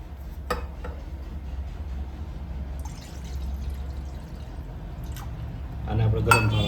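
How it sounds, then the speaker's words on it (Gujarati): Two glasses of water poured into a kadai ahead of steaming rava dhokla, a steady close splashing pour with a few metallic clinks against the pan. "કઢાઈમાં આપણે 2 ગ્લાસ પાણી ઉમેરી દઈશું."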